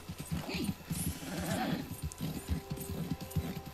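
Horse hooves clip-clopping during a ride in the video game Red Dead Redemption 2, a rhythmic trotting beat with a whinny over game ambience, close and without talk.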